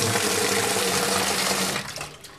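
Cold tap water gushes loudly and steadily into a home brew fermenter during a rinse, a dense close rush that thins and drops in level toward the end.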